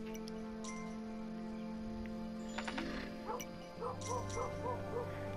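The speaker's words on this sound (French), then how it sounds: "Continue à aboyer ce con de chien." A dog in the video game Kingdom: New Lands barks in short, repeated yips over a steady layer of game music and ambience, fairly close and moderately loud.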